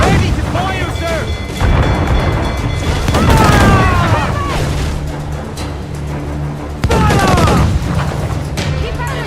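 Booming naval cannon volleys from Assassin's Creed IV Black Flag ring out loud and close in repeated heavy bursts over constant sea-battle din, with shouted voices in between.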